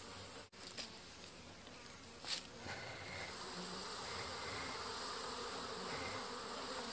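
A soft, continuous hum of many honeybees buzzing together at a beehive box, with a couple of brief knocks near the start.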